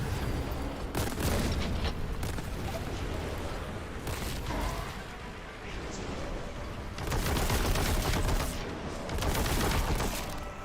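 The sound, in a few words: shotgun gunfire in Warhammer 40k Boltgun video game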